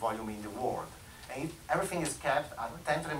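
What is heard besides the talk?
No distinct noise like a dog, phone or traffic.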